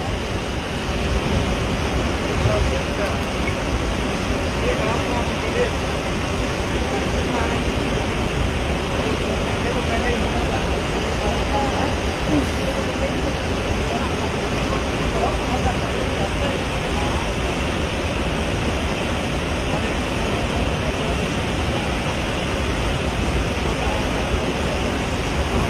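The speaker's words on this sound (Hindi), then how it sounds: "और तो मंदिर के ऊपर से भी पानी आ रहा है।" Flood water from an overflowing stream after a cloudburst rushes over a temple, making a loud, steady, broadband roar that holds unbroken from start to finish.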